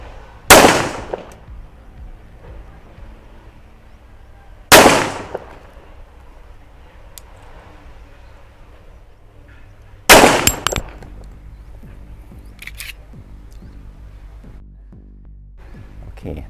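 Three loud, sharp pistol shots from a Colt Gold Cup Trophy, spaced several seconds apart, each with a short ringing decay, on a range, then quiet handling noise.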